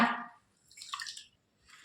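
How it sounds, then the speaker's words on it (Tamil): Water drains and trickles from freshly washed rice in a home kitchen, a short splash of pouring followed by light dripping and a second brief trickle, close and fairly quiet. "இந்த மாதிரி கை வச்சு 2 டைம் நல்லா இது மாதிரி பசஞ்சு கழுவிட்டு தண்ணியை வடிகட்டி எடுத்துக்கோங்க"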